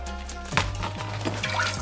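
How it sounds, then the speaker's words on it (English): Water poured into a pot of dried guajillo, morita and ancho chilies, a short, soft splashing and trickling pour lasting under two seconds, heard alone. "Gonna pour some water in there."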